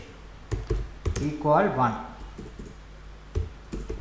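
Computer keyboard clicks and keystrokes while working in code, a few scattered taps close by under a man's speech.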